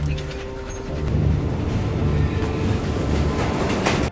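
A train rolls steadily along the rails, a constant rumbling roar with faint rhythmic clatter and occasional higher metallic hints, close and continuous.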